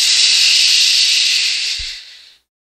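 A human voice imitates the hiss of a can being opened during an Alien tabletop role-playing session, a single loud, steady breathy hiss lasting about two seconds before fading out, with no talk over it.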